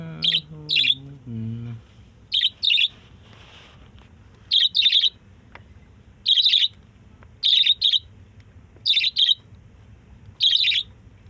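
Pet cage birds kept in a city home chirp in short paired bursts, repeating at a steady rhythm, bright and close, with a brief low voice-like sound at the start.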